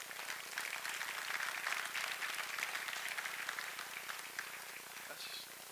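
Church congregation applauding at a Sunday service, a steady, fairly faint wash of clapping held for several seconds with a murmur of voices mixed in, tapering slightly at the end.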